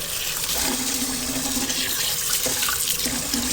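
Rice is rinsed in a pot with water, giving a steady rushing, sloshing wash that stays loud and continuous throughout.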